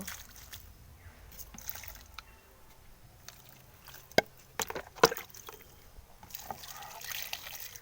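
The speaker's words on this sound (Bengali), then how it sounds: "আর এবারে কিন্তু এই গাছের গোড়ায় কিন্তু জল দিয়ে দেব" Water poured onto the soil at the base of a jujube tree, a faint splashing and wet trickle with a few sharper drips and knocks, under quiet outdoor background.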